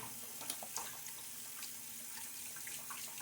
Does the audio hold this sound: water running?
yes